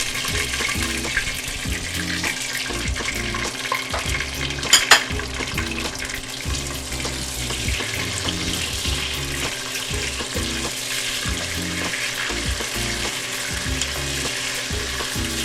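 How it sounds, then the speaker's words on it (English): Cut onions fry in red palm oil for Ghanaian mpotompoto, a loud, dense, continuous sizzle that holds steady throughout, with a couple of brief utensil clinks partway through. "And then I also have some cut onions here. I'm going to put it in the oil."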